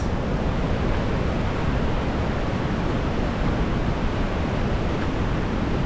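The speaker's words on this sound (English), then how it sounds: "Beautiful waterfall." Steady roar of a waterfall near Herbert Glacier outside Juneau, Alaska, heard as continuous broadband rushing water, loud and unbroken throughout with no voices.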